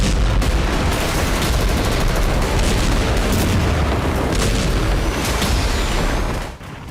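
Israeli bombardment and ground fighting produce a dense, unbroken barrage of heavy booms and rattling gunfire, loud and chaotic throughout, with overlapping blasts that fade slightly at the very end.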